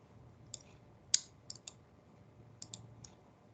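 Several sharp computer mouse clicks while working in ArcMap, spaced irregularly with a close pair and a cluster near the end, crisp and near over a faint low hum.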